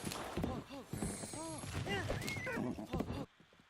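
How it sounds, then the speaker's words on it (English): A horse gallops and whinnies while jumping fences in a Zelda video game, with hoofbeats and a high neigh up close before the sound cuts off abruptly near the end. "So I just get onto my horse, jump the fences"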